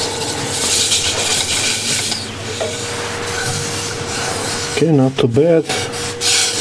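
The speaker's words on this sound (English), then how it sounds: "That will sand out nicely." Abrasive rubbing on the surface of a cherry wood bowl, a steady close rasping hiss that runs under a brief spoken remark near the end.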